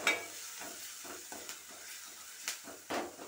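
Ginger garlic paste frying in oil for dhal, a close, continuous sizzling hiss with the soft scrape and tap of stirring at uneven intervals and no speech.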